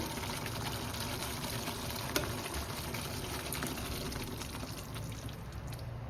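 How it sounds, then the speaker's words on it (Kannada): Beaten curd pours into an okra masala for bendekai majjige huli, making a faint, continuous liquid splash and trickle with a light tap partway through. "ಸೊ ಇವಾಗ ಕಡ್ದಿಟ್ಕೊಂಡಿರೋಂಥ ಮೊಸರನ್ನ ಕೂಡ ಆ್ಯಡ್ ಮಾಡ್ಕೊಡ್ತಾ ಇದ್ದೀನಿ"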